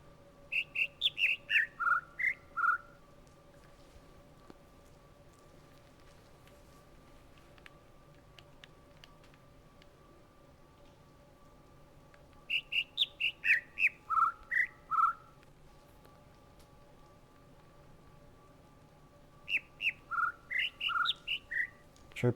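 Bird chirps from the puzzle game The Witness arrive in three separate bursts of quick, bright tweets that alternate between higher and lower notes, with quiet stretches in between and no talking.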